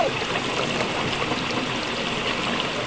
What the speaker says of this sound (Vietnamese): Một cơn sóng thôi thôi à.